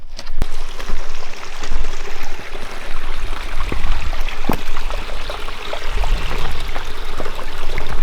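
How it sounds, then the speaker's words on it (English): Water flows and splashes continuously nearby, with irregular sloshing steps and scattered clicks breaking through the steady burble of a creek during a spring hunt. "Just had my first creek crossing."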